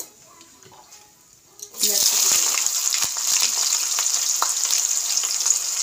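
Onions hit very hot oil in a karai with a sudden loud, steady sizzle that starts about two seconds in, after a quiet start, with faint clinks and stirring underneath.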